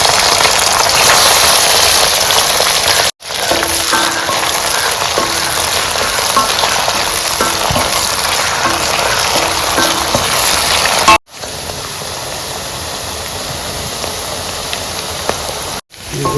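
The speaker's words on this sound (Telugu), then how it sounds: "దొండకాయ ఫ్రై అయిపోయిందండి చాలా వరకు." Thin, long-cut ivy gourd (tindora) slices frying in oil, Andhra style, giving a loud steady crackling hiss like heavy rain, cut by two brief silences.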